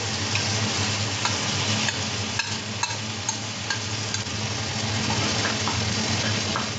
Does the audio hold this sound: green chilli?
yes